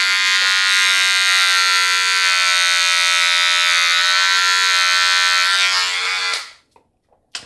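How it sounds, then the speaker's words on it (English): A handheld electric razor trims and lines up a hairline, its steady high-pitched buzz running loud and close for about six seconds before switching off, with a couple of faint clicks after. "You want to have one of these little handheld razor things. Your barber will use this when he like lines up your hair naturally already."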